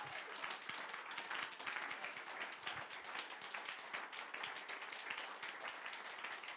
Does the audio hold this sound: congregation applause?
yes